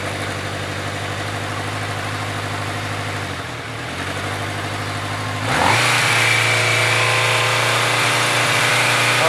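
A motorcycle engine runs near at idle during charging-system diagnostics, then the throttle is raised partway through and the engine note steps up to a higher, louder, steady running pitch.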